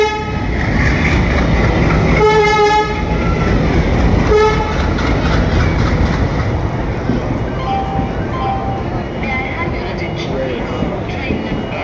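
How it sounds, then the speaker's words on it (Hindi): A Jan Shatabdi Express passes through a busy Indian railway station with a continuous loud rumble of wagons, broken by two short horn blasts near the start and fainter toots later, while someone talks over the noise. "जनशताब्दी जा रही है"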